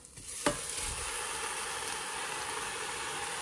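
Lamb goes into a cast iron pot and fries, giving a steady close sizzle after one sharp clatter near the start, with no talk.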